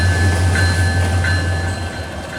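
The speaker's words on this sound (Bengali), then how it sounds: "রাজশাহী থেকে ছেড়ে আসা ধূমকেতু এক্সপ্রেস ট্রেনটি।" Dhumketu Express from Rajshahi pulling into Kamalapur station, a loud steady low rumble of the rolling train with faint high ringing tones, continuous and fairly close, easing slightly toward the end.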